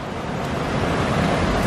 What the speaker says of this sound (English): Could hear that waterfall.